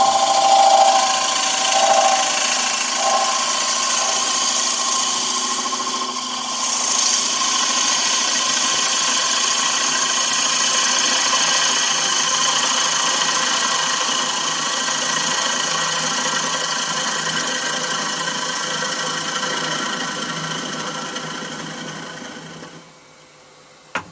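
A wood lathe takes a finish cut on a rough-turned wooden bowl, with a steady whirring drone and a continuous scraping hiss from the tool, holding level for a long stretch before spinning down.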